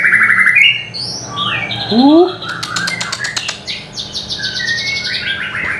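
Varied, melodious song of a white-rumped shama (murai batu) with rapid whistles, trills and chirps, close and loud, continuous throughout with a faint voice briefly underneath.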